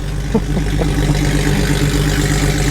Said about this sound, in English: listen to how loud this guy's truck is